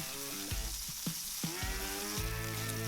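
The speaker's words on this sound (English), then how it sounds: "Then we're gonna fry this until the ham is nice and brown." Ham sizzles steadily in oil in a hot pan, with a few soft clinks and scrapes of a utensil stirring close by.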